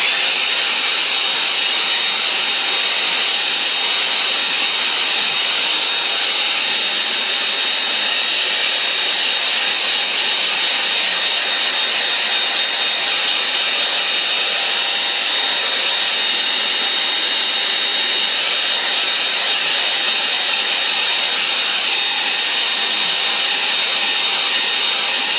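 A hair dryer blows steadily over a painting, a loud continuous rushing whoosh held close for the whole stretch with no talking.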